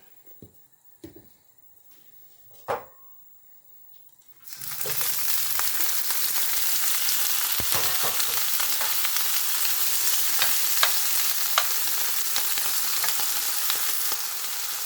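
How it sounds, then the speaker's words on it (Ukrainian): A few soft clatters and knocks, then eggplant slices hit hot oil in a pan and a loud, steady sizzle of frying takes over and continues close up with no talking. "Сюди трошки наливаю олії і буду смажити другу порцію баклажанів."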